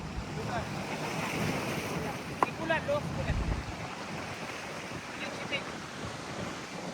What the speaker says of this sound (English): the ocean looks nice. Look at the waves.